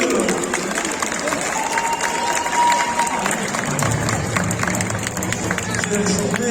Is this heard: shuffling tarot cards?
no